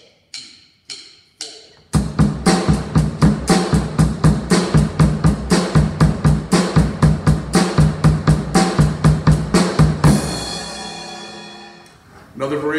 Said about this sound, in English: Another variation is to play the bass drum on 3/8 notes,